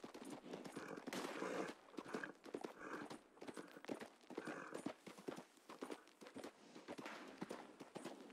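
Horse hooves clip-clopping steadily in Red Dead Redemption 2, a continuous rhythmic gait with faint ambient game sounds, fairly quiet throughout.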